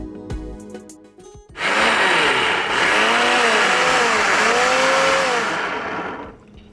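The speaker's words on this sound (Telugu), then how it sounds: "ఇది మిక్సీ పట్టేసుకొని వద్దాం." Kitchen mixer grinder blending mint stuffing with a little water: a loud, whining motor roar starts abruptly, holds steady with shifting pitch for several seconds, then cuts off.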